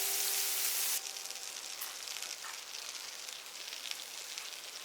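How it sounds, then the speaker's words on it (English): Butter melting in a large pot over medium-high heat, a steady soft sizzle and crackle with faint popping that keeps going at an even, moderate level after a brief louder hiss at the start. "in my large pot that I have heating on a medium high heat, I'm going to put my butter and wait till this melts down"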